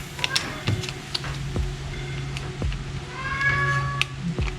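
A cat meows a few times, nearby, against a steady low hum and some light tapping noises, in a workshop during work on a Cadillac badge.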